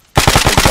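A loud, close burst of automatic gunfire in the military shooter game ARMA 3: about six rapid shots in an even, quick rhythm after a short silence, with no talking.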